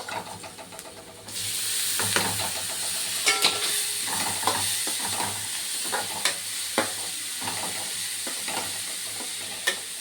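Boiled sprouted grains with salt and turmeric sizzle steadily in a hot pan, a constant bright hiss broken by scraping stirs from a spoon, close and alone.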